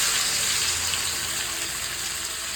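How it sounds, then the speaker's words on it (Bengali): Onions frying in hot oil in a pan, giving a loud, steady hiss of sizzling that holds unbroken throughout. "পেঁয়াজটা লাল করে ফ্রাই কর।"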